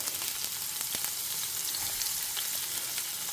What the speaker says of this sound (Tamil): இப்போ எண்ணெய் சுட ஆரம்பிச்சிருக்கு.